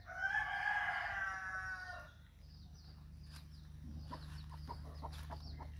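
A hen calls to her chick with a loud run of clucking cries for about two seconds, then softer scattered clucks and peeps follow, with a second hen nearby and no talking.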